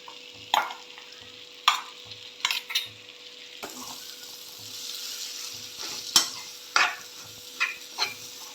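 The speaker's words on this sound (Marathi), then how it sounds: "याच्यामध्ये मी मिक्सरमधून काढलेले मटार घालून घेते." Coarsely mixer-ground green peas fry in a spiced tempering while a utensil stirs them, giving a soft sizzle broken by repeated close scraping strokes and dull knocks against the pan.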